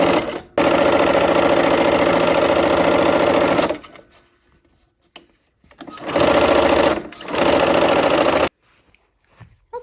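A sewing machine stitches quilt rows together with nested seams for a nine-patch block, running in two long, loud, steady bursts separated by brief pauses and quiet handling.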